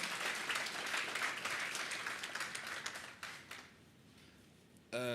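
An audience at the SADC Sustainable Energy Week applauds a presenter, a full steady burst that gradually dies away, followed by a voice starting to speak at the very end.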